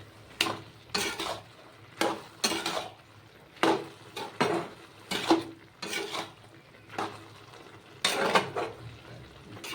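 Spices stirred into a cooking pot of ash gourd with dried shrimp, heard as a series of sharp, evenly spaced spoon scrapes against the pot, close and clear over quiet background.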